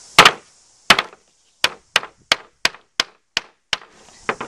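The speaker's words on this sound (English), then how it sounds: "we can take the hammer to this end part" Nine sharp, hard hammer strikes land on a plastic toy gun one after another, uneven and close, each a dry knock with a short ringing tail, with brief gaps between blows.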